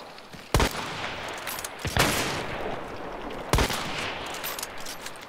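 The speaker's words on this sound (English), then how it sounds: "You've got like multiple people shooting at you." Gunfire from several shooters in a first-person shooter raid, with three sharp bursts of shots standing out over steady background battle noise.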